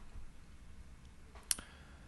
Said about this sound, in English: I'm going to click enter again, and click add media.